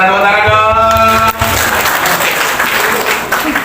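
An audience bursts into loud, sustained clapping at a teachers' professional upgrading seminar, with a voice briefly heard before the applause swells.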